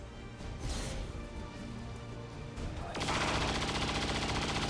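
XCOM 2 combat fire with Halo bullets, dense rapid gunfire and crashing impacts that build into a louder, sustained burst near the end, steady and heavy throughout.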